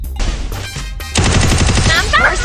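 Rapid automatic gunfire in a mobile shooting game, a sustained burst of loud shots after a brief lull, with excited talk mixed in.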